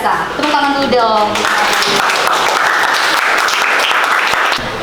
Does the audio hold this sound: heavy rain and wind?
no